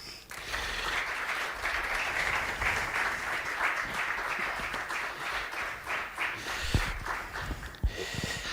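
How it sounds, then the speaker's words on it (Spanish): Audience applause at an adult storytelling event, steady sustained clapping from a crowd throughout, fairly close, with no talk over it. "un aplauso muy grande para todas esas mujeres"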